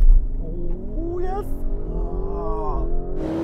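Lamborghini Urus and Porsche Cayenne Turbo S SUVs accelerating hard in a drag race, engines droning with rising, shifting pitch and gear changes, heard from inside the car under a person's excited groaning and exclamations.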